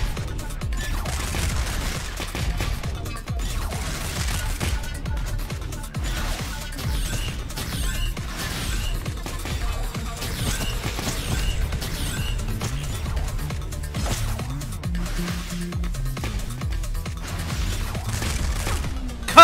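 Rocket explosions in the Neon Abyss video game, a dense rapid stream of crackling blasts and crashes layered with game sound, steady and moderately loud throughout.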